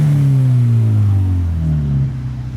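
Mazda RX-7 rotary engine revs as the car leaves a car meet, a loud, close, droning note that sweeps down in pitch and then fades slightly toward the end, with no voices.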